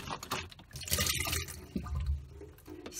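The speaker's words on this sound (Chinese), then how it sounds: "先洗一洗。" Running water splashes and drips while a used milk carton is rinsed out, a close, irregular wet wash with gurgles and a brief louder pour near the end.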